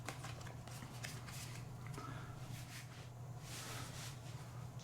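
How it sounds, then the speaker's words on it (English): Skulls of Sedlec board game cards are shuffled in repeated quick riffling bursts over a low steady hum, soft and close, with no talking. "To begin setup for Skulls of Sedlec, we're going to begin by shuffling the cards."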